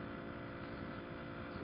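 A small motorcycle engine struggles up a mountain road toward Étang de Soulcem with a steady, strained drone. It is faint and unbroken, with no talking.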